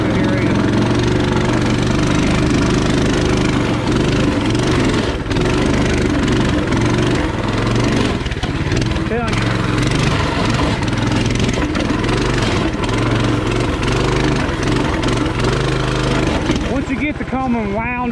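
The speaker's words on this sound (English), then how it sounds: "Coleman wound up, she pulls great." Small Coleman CT200 mini bike engine working hard on a rough single-track trail, loud and continuous with revs rising and bogging throughout, close to the listener.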